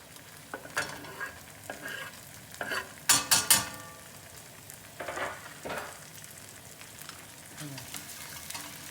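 Garlic and tomato paste fry in a pan while being stirred, soft sizzling broken by scraping spoon strokes and a loud cluster of clattering knocks midway, close and fairly quiet.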